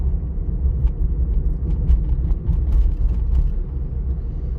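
A car rolls toward an intersection during a driving test in Bila Tserkva, a steady low engine and road rumble heard from inside the cabin, with faint light rattles and no talk.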